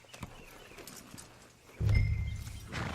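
A horse walking in Red Dead Redemption 2, with sparse, faint hoof clops at first, then louder, steady plodding steps and a rumble of movement up close.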